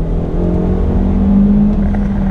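A 2018 Hyundai Elantra GT Sport hatchback accelerates hard from inside the cabin, its engine note holding a loud, steady drone with a rising tone as it pulls toward redline.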